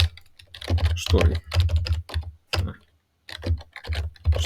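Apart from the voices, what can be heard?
typing on a computer keyboard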